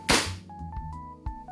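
A single sharp shot from an E&C 2103 Hi-Capa 4.3 airsoft pistol, a loud close crack followed by a quieter clack a moment later, with a faint steady tone behind.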